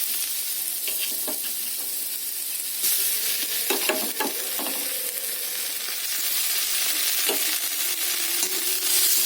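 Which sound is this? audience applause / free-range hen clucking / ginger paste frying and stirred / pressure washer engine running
ginger paste frying and stirred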